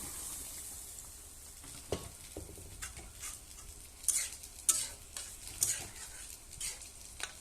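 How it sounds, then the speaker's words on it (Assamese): Vegetable curry of potato and okra frying in a pan at home, a constant sizzle with intermittent scraping and light metallic clinks from a stirring spoon, close and moderately quiet, no voices. "ইফালে চব্জিও লৰাই আছোঁ।"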